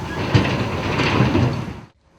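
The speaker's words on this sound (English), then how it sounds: "That is the sound of the Richland Mall coming down after more than 60 years in Columbia." During the demolition of the Richland Mall building in Columbia, a heavy, grinding crash of collapsing structure and debris swells loudly and then cuts off into near silence.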